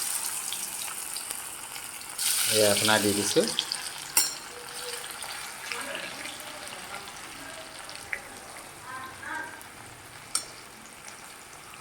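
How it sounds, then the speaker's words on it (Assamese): Thin-sliced raw banana chips, coated in spice, hit hot oil in a kadai and give a sudden loud sizzle that fades into steady, softer frying crackle with a few utensil clinks, while someone speaks briefly. "এতিয়া মই তেলত ফ্ৰাই কৰিম"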